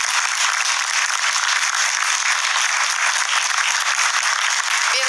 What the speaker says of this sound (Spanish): Manuel Paredes y su esposa Raquel Garrido, para quienes pido un cariñoso aplauso.